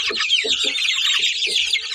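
Young chickens about 25 days old cluck and peep steadily in a crowded coop, a dense high chatter broken by several short lower clucks, close and continuous with no talking.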